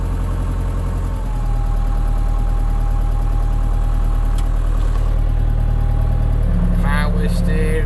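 An International 685XL farm tractor idles with a steady, low, throbbing diesel rumble close by, running evenly throughout, with a brief higher whine near the end and voices speaking over it.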